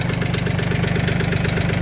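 A tractor engine idles steadily at close range, a low, even rumble with a rapid, regular knocking pulse and no voices.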